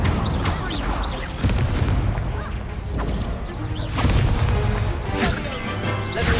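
Spells are cast in Hogwarts Legacy, including the Incendio fire spell: bursts of whooshing, crackling flame and heavy impacts come in quick succession over a dense layer of game effects and music.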